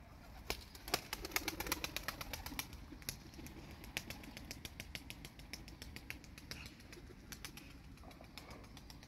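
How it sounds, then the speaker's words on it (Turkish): A pigeon flies with quickened wingbeats, giving off rapid sharp clapping flaps in irregular bursts that cluster near the start and again later, over a low background rumble. "Uçuma geçti sanki, kanat hareketleri hızlandı."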